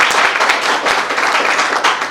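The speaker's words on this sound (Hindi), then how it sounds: "भाई साहब के लिए एक बार जोरदार तालियां बजाएं।" Loud, dense audience clapping at a public welcome gathering, a sustained roar of many hands close by with slight swells, and no voices on top.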